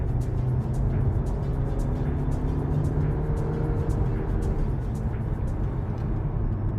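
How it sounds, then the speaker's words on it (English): Interior of a 2023 VW T-Roc with a 140 kW engine accelerating hard to overtake, a steady loud engine and road drone rising over several seconds with no talk. "So I'm gonna try to do an overtake now."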